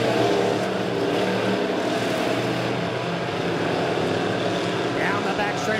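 Midwest modified race cars roaring around a dirt track at Springfield Raceway during a heat race, a dense, loud, continuous engine drone from several cars, heard beneath a public-address announcer's commentary.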